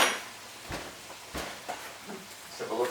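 Kitchen utensils handled while spaghetti alla puttanesca is prepared near a chopping board and knife: scattered light clinks, knocks and scrapes, a few sharper thuds, fairly close and quiet with some background noise.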